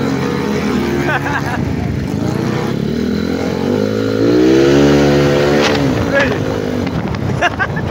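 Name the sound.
Yamaha NMAX scooter passing by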